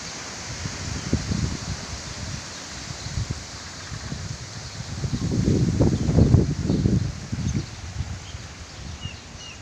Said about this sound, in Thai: พอดีนี้ลมพายุกำลังเข้ามา